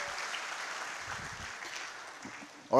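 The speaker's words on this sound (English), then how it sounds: "another round of applause for the MDNSSF Uganda." An audience at an NSSF Uganda live event gives a round of applause, a steady spread of clapping for nearly three seconds that ends in a sudden louder burst.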